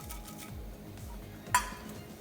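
Almonds tumble into melted butter in a pan, with soft rhythmic scraping and knocking of a utensil against the pan and one bright metallic clink, fairly close and quiet, no talk.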